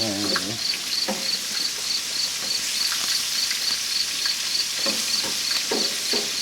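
Rabbit pieces frying in hot grease, a loud continuous sizzle and hiss with soft scraping clicks as tongs turn the meat, close by.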